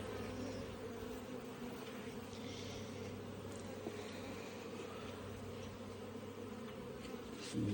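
Honey bees swarm at an open beehive while a honey super is added: a dense, steady, close hum of many wings fills the whole stretch, quiet overall, with no talking.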